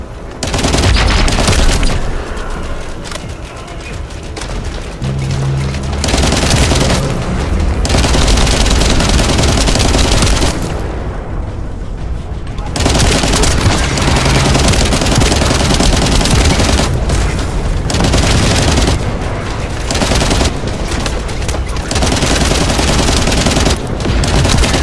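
Turret gunfire in the video game The First Descendant rattles in loud, sustained rapid bursts with heavy booms mixed in, pausing briefly before resuming at full intensity.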